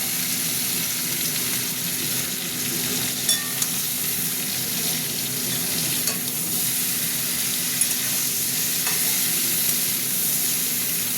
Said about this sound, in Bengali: দেখো অনেকটা ভাজা ভাজা হয়ে এসছে।